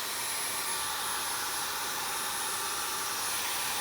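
Wet vacuum sucking pooled water out of an RV refrigerator freezer, a steady, loud, hissing motor whine with airflow that holds constant throughout, no talk.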